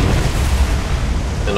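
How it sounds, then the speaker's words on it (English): Ship's magazine explodes in the naval combat game War on the Sea, a loud sustained roaring blast with dense rumbling low end filling the entire moment. "And probably just suffered magazine explosion by the looks of it."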